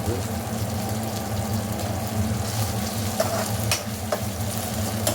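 Onions and spices fry and get stirred in a pan for chicken liver curry, a steady close sizzle with occasional scraping strokes running throughout.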